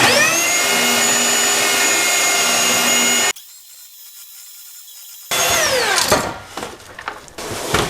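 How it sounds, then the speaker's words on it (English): A power sander grinds steadily against a metal part being flattened for a turbo-swapped Subaru Impreza, stops for a two-second pause, then starts again with rougher, uneven passes. "I just gotta sand the other side first."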